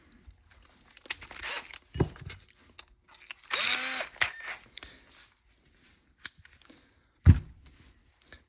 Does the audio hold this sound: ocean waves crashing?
no